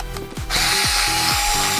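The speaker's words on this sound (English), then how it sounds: "just start taking screws out until it falls apart" A power drill spins screws out of a 1/18 scale Axial RC axle housing, with several short whirring bursts rising and falling in pitch, then a sustained loud, close motor whine.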